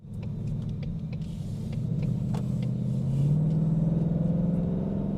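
A Ford Raptor engine with a 10R80 transmission and new torque converter rumbles steadily from inside the vehicle, the low drone rising slightly as it accelerates.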